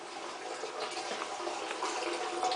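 Water streams steadily into an injection pump system, a constant broadband rush with small splashy flutters, moderately close and alone with no talk.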